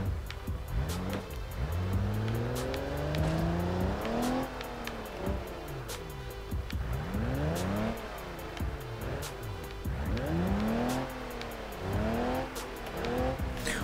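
Car driving off-road in BeamNG.drive, its engine rising and falling through repeated revs and shifts, with tire squeals and skids over a steady rumbling drone.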